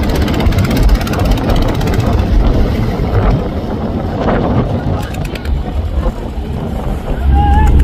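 On a windy river, a trawler engine runs steadily as the boat unloads launch passengers, a heavy, close rumble with some rattling and wind buffeting throughout.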